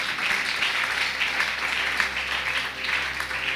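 A church congregation applauds and cheers for Jesus in a steady, even wash of clapping that keeps up throughout, moderately loud and filling the room, with faint voices beneath.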